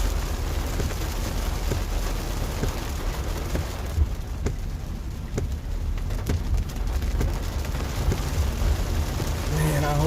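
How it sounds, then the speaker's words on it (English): Heavy rain pours down steadily during Texas Hill Country flooding in Austin, a dense continuous hiss with a few sharp drip and splash hits throughout, close and fairly loud. "God dang, this rain is coming down."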